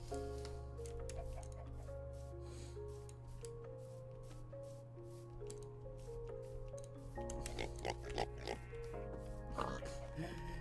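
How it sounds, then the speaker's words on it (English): Baby pigs in a Minecraft-style game give short oinks over steady game music, with faint talk now and then. "Oh, the baby pigs are so cute."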